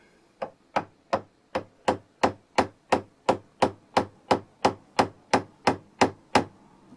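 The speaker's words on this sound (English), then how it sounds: "I've decided to try and chisel it." Steady series of about fifteen sharp hammer blows driving a chisel into a wooden bass guitar headstock, evenly spaced and close, each strike crisp with a short ring, no talking.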